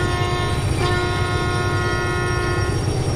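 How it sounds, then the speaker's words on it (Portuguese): A sustained electronic-sounding train horn in the train simulator game Derail Valley blares steadily over a rumbling rail engine, loud and close throughout. "Ó a buzina aqui, ó."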